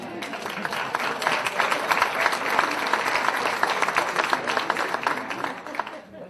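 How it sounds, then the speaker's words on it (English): An audience at a college announcement applauds with dense, steady clapping that swells and then fades out, lasting several seconds. "wasn't in my script for applause there."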